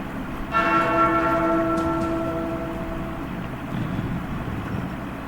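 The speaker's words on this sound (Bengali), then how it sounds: "ওই ঘন্টাটা বাজাও, বাজাও।" A single large bell is struck once, ringing out loud and close with a long sustained metallic hum that slowly decays over the following seconds.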